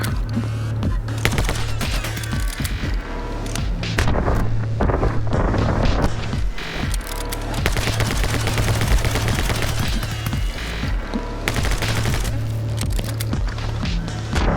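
Rapid gunfire from the side-scrolling action game My Friend Pedro 2 as wooden boxes are shot apart, dense repeated shots layered over a driving game soundtrack throughout.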